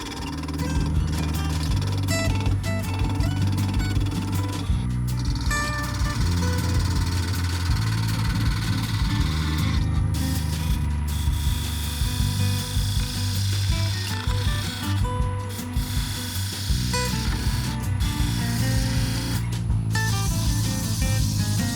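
Continuous loud whir of a wood lathe truing up a teak lidded box blank, steady motor drone with the gouge scraping and rubbing against the spinning wood throughout, with a few brief dips in the cut.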